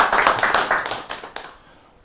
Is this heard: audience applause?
yes